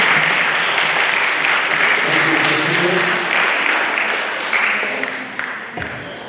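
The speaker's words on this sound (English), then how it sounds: "Let's give her a round of applause." An audience applauds a spelling bee contestant at an educational talent search event, a dense, steady wash of clapping that holds for several seconds and gradually thins out toward the end.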